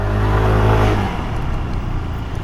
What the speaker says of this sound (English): as you can plainly see, it is making mincemeat of the traffic, which is expected for a scooter like this